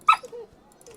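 A dog in the video game The Banner Saga 3 gives one short, loud yip or bark near the start, then fades into faint whimpering tones over quiet game ambience.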